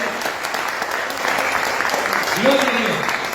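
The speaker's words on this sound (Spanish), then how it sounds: "vamos a dar un aplauso para Jesús" A church congregation applauds, a steady mass of clapping hands throughout, with voices calling out over it near the end.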